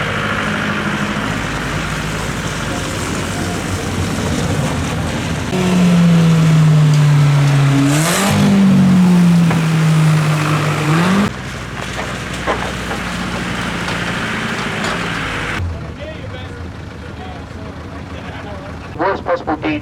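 Banger racing cars rev loudly at a back-to-basics demolition derby, one engine whining up and down in pitch amid rumbling crowd and track noise, with a commentator's voice alongside.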